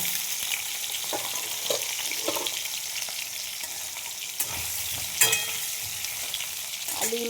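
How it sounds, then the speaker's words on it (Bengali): Cut potatoes frying in oil, a continuous bright hiss and sizzle with occasional stirring clatters and small pops, steady and close with no talk. "তা আলুগুলো আমি আগে ভেজে নেব"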